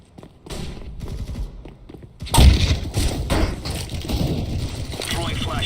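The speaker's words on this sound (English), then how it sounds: "Deploying flashbang." A flashbang grenade goes off in the shooter game CS:GO. A sudden, loud burst hits about halfway in, after quieter thuds, and is followed by sustained, noisy gunfire-like clatter.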